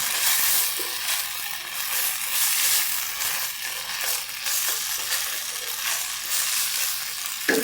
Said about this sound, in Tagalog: haluin lang natin siya muna